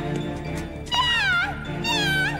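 A pet kitten lets out two drawn-out, wavering meows, close and clear, over a low background hum, in a French cartoon scene.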